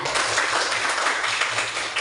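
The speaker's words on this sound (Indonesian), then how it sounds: "Tepuk tangan dulu untuk kita." A crowd applauds continuously, dense clapping from many hands filling the whole moment at a fairly loud, steady level.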